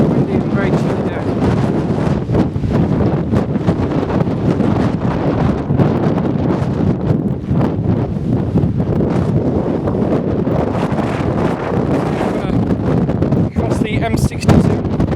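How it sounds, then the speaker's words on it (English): Steady, heavy wind buffets the microphone throughout, a constant loud roar and rumble with no pause, on a chilly late-October hike along the Pennine Way in England between Standedge and Blackstone Edge Reservoir. "it's windy and very chilly day."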